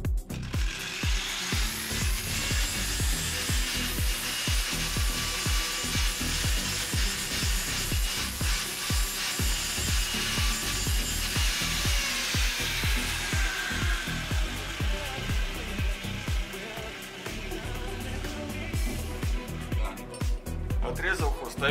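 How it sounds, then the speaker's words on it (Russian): A power tool cuts the shank off a drill bit, grinding and rattling continuously with a harsh, gritty mechanical whir, close and steady, changing pitch partway through as the cut progresses. "Отрезал хвостовик от сверла."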